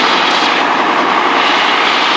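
An M35A2 military truck engine running with its repaired exhaust gives a loud, steady, unbroken roar, close by and alone.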